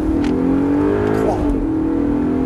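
Audi R8 engine on a track, a loud, close, steady drone climbing slightly in pitch as the car accelerates, with a brief wavering shift midway, and no talk over it.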